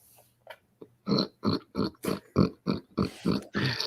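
A person imitates a surprised pig, giving about ten short, nasal oinking grunts in a quick, fairly even rhythm, close and loud.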